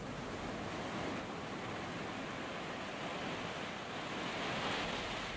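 Sea surf rolls below Luhur temple on the southern tip of Bali, a continuous broad wash of waves, steady and fairly loud with no other sounds.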